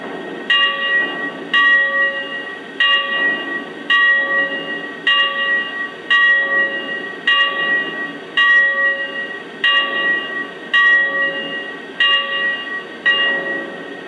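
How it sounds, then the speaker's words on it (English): Bell on a Lionel N&W 2-8-8-2 Y6b model steam locomotive, rung in a steady, evenly spaced series of bright clangs at close range with no other sound. "All right, now let's check out the bell."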